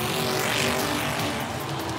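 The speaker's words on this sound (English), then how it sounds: "She's driving so fast, her wheels are going to melt the track." A cartoon race car speeding along a motor racing track, a loud continuous engine roar with a brief swell, close and alone.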